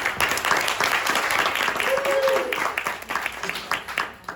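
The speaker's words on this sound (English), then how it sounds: "Let's clap it up for her." Audience applause at a pitch competition, a dense steady wash of clapping that carries through most of the stretch before thinning toward the end, with voices mixed in beneath.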